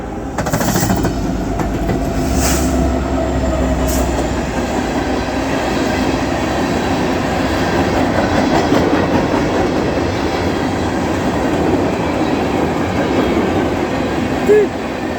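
Freight train rolls past at night on the Bessemer & Lake Erie line, loud and close, a continuous rumbling roar with rhythmic wheel clacking throughout, voices faintly mixed in.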